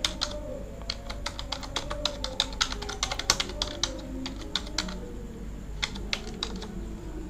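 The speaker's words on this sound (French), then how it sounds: "Je vais écrire le texte d'en haut là." Fingers type on a computer keyboard while entering text in Photoshop, with quick clusters of crisp key taps and short pauses, close and clear, no talking.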